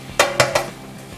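Semolina and vegetables in a pan, with three quick metallic clanks of a utensil against the pan spaced a fraction of a second apart, then a faint low stirring and sizzle.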